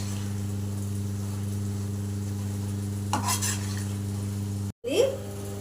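Spicy tomato pachadi is stirred in a pan over a steady low hum, with a couple of short, close scraping strokes of a utensil against the pan and no talking.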